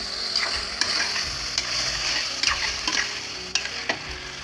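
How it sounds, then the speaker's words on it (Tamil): Yogurt being stirred into masala frying in oil for chicken biryani, a steady sizzle with scraping spoon strokes against the pan and occasional sharp clinks. "அதையும் நல்லா மிக்ஸ் பண்ணி விட்டுக்கலாம்."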